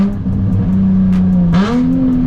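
A straight-piped Nissan 350Z exhaust drones loud and close at a steady pitch, then rises in a quick rev partway through and holds a higher, raspy tone to the end.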